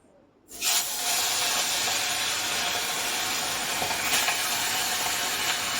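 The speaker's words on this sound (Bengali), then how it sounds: "মাছটাকে ভেজে নিই" Salted, turmeric-rubbed fish dropped into a very hot pan, setting off a sudden loud sizzle that settles into a steady, close hiss of frying.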